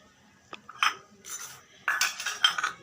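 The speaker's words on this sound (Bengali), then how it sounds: "বাটির মধ্যে কিছুটা তেল ব্রাশ করে নেব।" Small bowls being prepared for idli, with soft clinks and scrapes of utensils against the bowls in a few short separate bursts, fairly quiet, with no talk.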